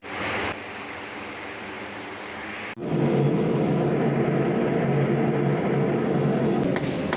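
A blacksmith's forge fire heats round steel bars, roaring steadily as a broad, rushing hiss that jumps abruptly louder partway through and then holds constant.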